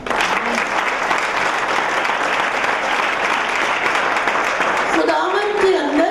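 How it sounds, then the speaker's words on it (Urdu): A Palm Sunday congregation claps loudly in a church in Quetta, Balochistan, a dense, sustained roar of hands filling the room throughout, with a voice rising over it near the end. "خداوند کے لیے تالیاں بجائیے"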